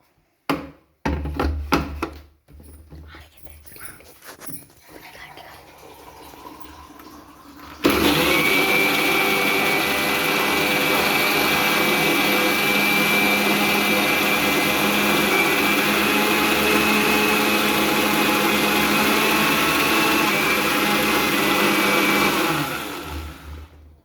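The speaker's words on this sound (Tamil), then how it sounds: "இப்போ வந்து மிக்சியில் போட்டு அரைச்சிக்கலாம்" An Indian mixer grinder whirs loudly and steadily for a long stretch after some short clattering bursts at the start, a close, continuous motor roar that cuts off at the end.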